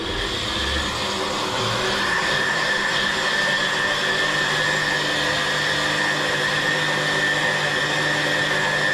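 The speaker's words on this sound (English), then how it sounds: "So we're going to start blending our ingredients" A kitchen blender runs steadily, blending blueberry pancake batter ingredients with a loud, continuous whirring motor drone that holds the same level throughout, with no talk.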